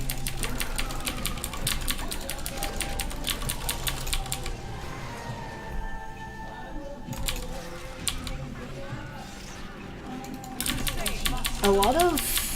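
Fast, dense keystroke clatter from a mechanical computer keyboard runs for most of the stretch, pausing briefly midway, with speech underneath and a short voiced sound near the end.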